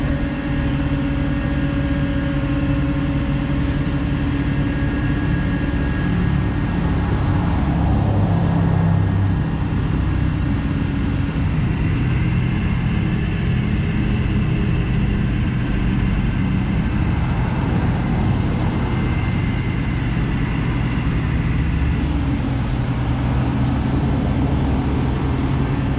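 A 1960 Chevy Apache half-ton long-box pickup's six-cylinder engine runs with a steady, loud, unbroken drone from start to finish.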